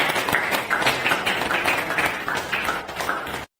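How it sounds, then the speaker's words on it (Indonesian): Students in a classroom clap together in steady, enthusiastic applause that lasts several seconds before stopping abruptly. "Kita beri tepuk tangan semuanya."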